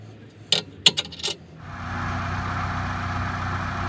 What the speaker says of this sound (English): Using a wrench and our impact, we're going to take out the rear bolt.